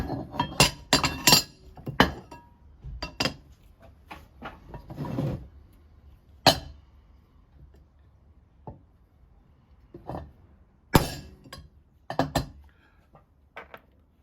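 A hammer strikes a center punch in a workshop, a series of sharp, metallic taps in uneven clusters with quiet gaps between them, close and clear without any talk.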